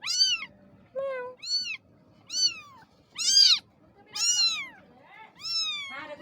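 A cat meows repeatedly and close by, about seven distinct rising and falling calls spaced roughly a second apart in a quiet room.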